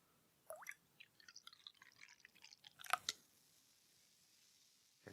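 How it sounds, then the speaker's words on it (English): Freshly poured American pale ale fizzing as carbonation bubbles pop, a faint, crisp crackle of tiny drips and snaps close to the microphone, with a brighter burst of fizz midway. "The carbonation, you can hear it. It sounds quite crisp."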